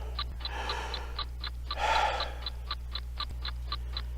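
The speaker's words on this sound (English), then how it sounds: "I try to relax. Breathe deep." A single slow, deep breath drawn in and let out close to the microphone in a quiet room, rising and falling once over a steady low hum and faint regular ticking.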